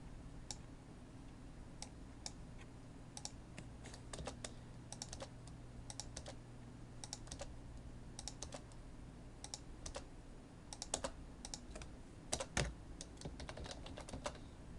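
Quick, light keystrokes on a computer keyboard come in uneven bursts and short pauses. The clicks are close but quiet over a low steady hum.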